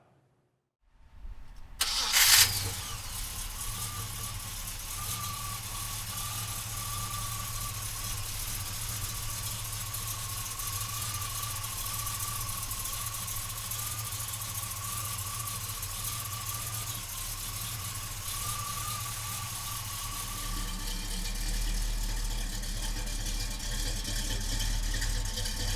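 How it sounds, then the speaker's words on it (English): A 1970 Chevrolet Monte Carlo with a 454 V8 cranks briefly and fires up with a loud burst, then settles into a steady, rumbling idle that stays close and continuous for over twenty seconds. "come on up and we're gonna fire this beast up"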